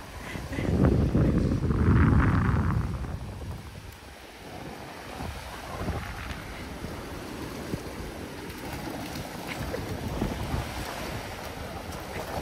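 Ocean waves break on an off-leash beach, a loud surging wash near the start that eases into a steady rumble of surf, with wind buffeting the microphone throughout.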